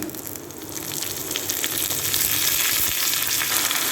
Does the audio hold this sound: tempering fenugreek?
yes